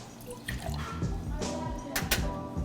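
Coconut water pours from a container into a metal cocktail shaking tin, giving a soft, trickling splash with a few brief drips and clinks, fairly quiet, during a mixology class.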